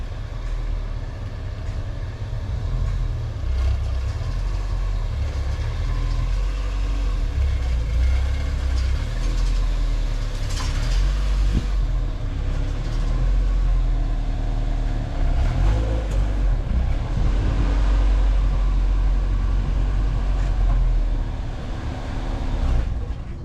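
Honda B20VTEC wagon engine running at low idle as the car is slowly turned around, a steady rumbling drone that stays even throughout.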